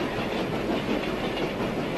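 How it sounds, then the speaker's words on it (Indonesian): A train pulls out on its rails, a steady close rumble and clatter with no voices, from a 1981 Indonesian film about a last train. "saat kereta api terakhir ini berangkat"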